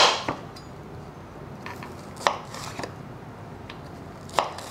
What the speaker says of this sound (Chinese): 把玉米笋切一半